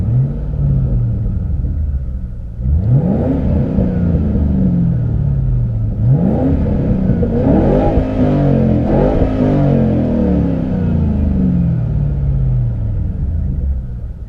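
A 2005-2009 Ford Mustang GT with a 4.6 liter V8 and a Roush Extreme Performance catback exhaust idles loud and deep, then revs sharply three or four times, recorded up close with the doors closed.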